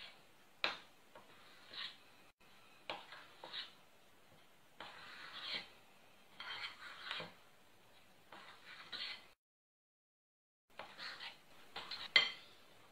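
Cozonac dough ingredients, including mayonnaise, stirred in a bowl by hand, giving quiet intermittent scraping and clinking bursts separated by short pauses, close and faint.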